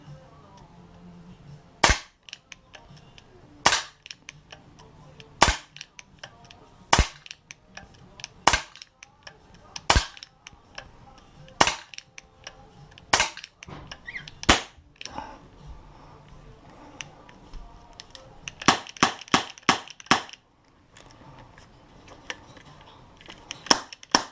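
Artemis CP400 4.5 mm CO2 air pistol firing about a dozen sharp cracking shots at even intervals, followed by a quicker burst of several shots near the end, with low murmuring in between.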